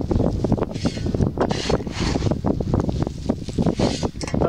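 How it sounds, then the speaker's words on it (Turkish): Gusty wind blows outdoors in an open field where fruit saplings are being planted, buffeting the microphone with loud, uneven rumbling gusts that continue throughout. "Hava biraz rüzgarlı olmaya başladı."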